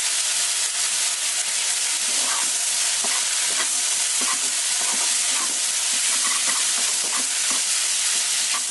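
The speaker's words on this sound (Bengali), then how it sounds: "এবার ম্যাগিটা দিয়ে একটু ভাজা ভাজা করে নেব, আর ওপর দিয়ে ম্যাগির মশলাটা দিয়ে দেবো।" Maggi noodles fry with vegetables in a hot pan, giving a loud, constant hissing sizzle with soft stirring scrapes running throughout.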